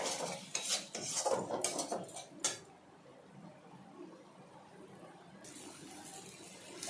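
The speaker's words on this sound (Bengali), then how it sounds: "মশলাটা আরও কিছুক্ষণের জন্য কষিয়ে নিতে হবে।" Spice masala sautéed in a pan for ghugni: a metal spatula scrapes and clinks against the pan in quick strokes, then a soft low sizzle carries on quietly.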